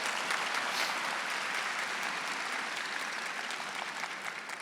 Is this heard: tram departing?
no